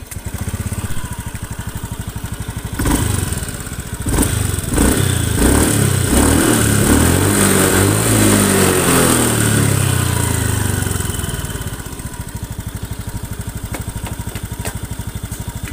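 A Honda Beat FI scooter engine with a rough-running engine runs close by, revving up into a loud rising whine, holding, then dropping back to a rough, rattly idle.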